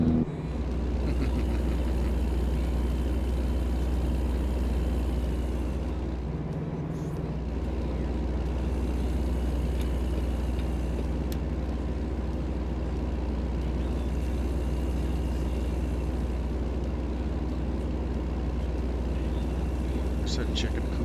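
A high-compression, hard-starting truck engine running steadily at close range, a continuous deep rumble with a brief dip midway, under an ongoing hiss.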